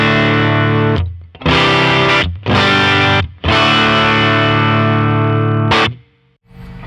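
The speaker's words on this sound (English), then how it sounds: "that is the JHS 424 gain stage. It is a worthy contender as a drive pedal." Electric guitar driven through a JHS 424 Gain Stage pedal, played as loud distorted chords in three sustained bursts separated by short gaps, then a brief final stab and fade.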